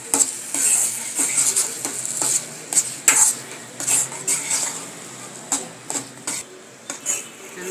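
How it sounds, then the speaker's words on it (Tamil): Kolukattai dough for mothaga kolukattai being stirred in a pan, a steady run of scraping, clinking utensil strokes against metal, fairly close and moderately loud, with no voices. "நன்றாக கொட்டி ஒன்று சேர்த்து கிளறி ஆற விடவும்."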